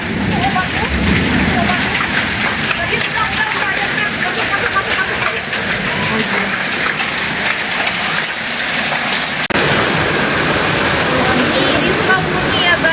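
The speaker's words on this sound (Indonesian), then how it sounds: "Di Sukabumi ya guys, hujan esnya gede-gede kayak gini." Heavy hail and rain pounding down in a storm in Sukabumi, a dense, loud, steady roar of falling ice and water with strong wind, continuous throughout with voices faintly talking underneath.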